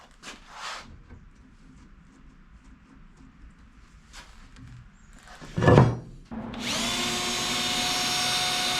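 Power drill boring a hole during a home-made sheet metal brake build: quiet handling and clunks at first, then a short whir, and the drill running steadily and loudly for the last few seconds.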